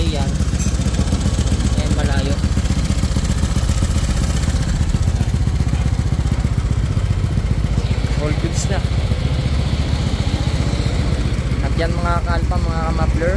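A Honda Click 160cc scooter fitted with a JVT v3 exhaust pipe with a 28mm by 32mm re-elbow runs at close range, its raspy engine and exhaust drone steady and loud throughout.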